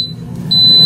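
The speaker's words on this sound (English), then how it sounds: "It's beeping just like the Instant Pot does" An Instant Pot air fryer lid beeps on start with a clear, steady electronic tone that breaks off briefly, then returns and holds. A low hum sounds underneath.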